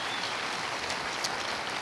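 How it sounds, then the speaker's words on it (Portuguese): Applause for a student during a class, a dense, even patter of many hands clapping together, steady and soft throughout the short moment. "Uma salva de palmas para ela."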